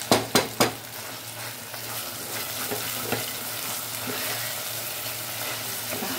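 Goat meat and ribs fry in a pot with a loud, steady sizzle right up close, opened by a few quick knocks of a utensil against the pot.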